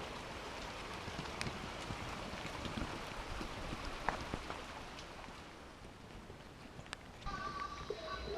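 Rain falling outdoors in fog on a muddy mountain track, a faint steady patter with occasional louder drops and light knocks.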